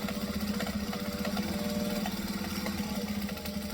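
A sewing machine runs at a steady fast rhythm as it stitches up the sides of a stained glass tote bag, a continuous mechanical whirr with no talking.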